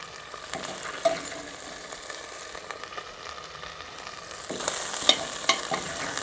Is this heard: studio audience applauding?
no